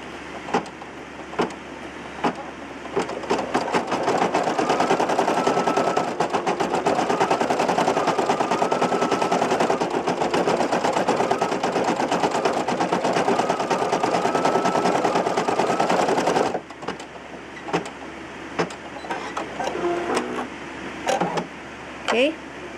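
A Brother PE800 embroidery machine stitches in a fast, steady mechanical rattle for about sixteen seconds, then stops abruptly, leaving quieter clicks and handling noises close by.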